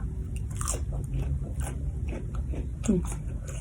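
Crisp, close bites into crunchy raw cabbage, several crackling crunches and chewing sounds over a low background hum, with a brief murmur of a voice.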